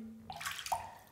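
Water running into a bathtub after a bath bomb has dissolved, a short burst of splashing and gurgling water heard at low level.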